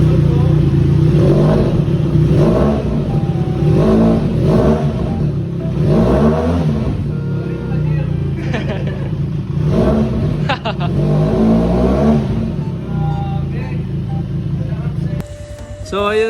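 A Benelli TRK 502 big motorcycle's engine revs loudly and repeatedly up close, rising and falling in pitch, with people's voices heard over it.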